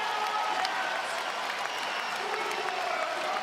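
A basketball arena crowd at a Perth Wildcats NBL game cheers and applauds in a continuous, loud wash of clapping and shouting.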